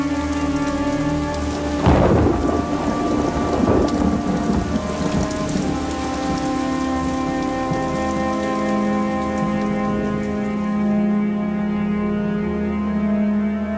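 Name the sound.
thunderstorm with heavy rain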